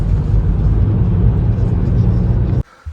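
A car pulls away with a loud, low engine rumble and road roar that stays steady for a few seconds, then cuts off abruptly into near quiet.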